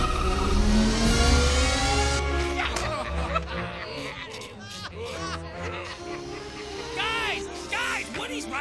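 An RC toy car whirs and revs in a Toy Story animated film scene, its motor under excited character shouts, laughter and musical score, with the whine rising and falling as it speeds along.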